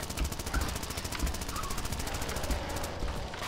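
Rapid machine gun fire from the zombie-driving game Zombie Driver, a steady stream of evenly spaced shots rattling on without pause for several seconds, with faint game noise underneath.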